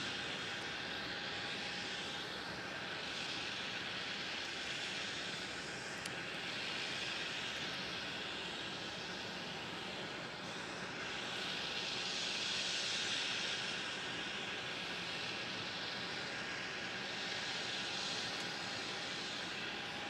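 Jet aircraft at Melbourne Airport produce a faint, distant, steady engine roar and hiss for twenty seconds, rising and falling gently as planes move.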